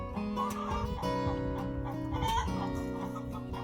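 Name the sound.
hen clucking her egg song after laying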